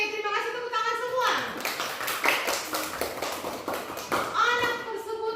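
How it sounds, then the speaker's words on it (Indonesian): Children clap together in a classroom lesson, a brief patter of hands that overlaps with young voices chattering, with clearer talking before and after the clapping. "tepuk tangan semua"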